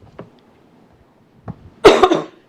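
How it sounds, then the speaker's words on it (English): A person coughs during a board meeting: two small isolated clicks or throat sounds, then a loud, close burst of two or three harsh coughs in a quiet room. "I apologize for my stupid cough."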